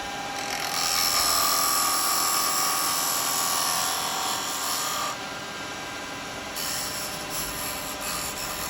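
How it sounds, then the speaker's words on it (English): A spindle gouge cuts wood spinning on a lathe, cleaning up an edge and rolling a small bead on a little weave-pattern basket pot. The cut gives a loud, steady rasping whine that drops in intensity about halfway through, with no talking. "now come back in my spindle gouge and I want to clean this edge up here"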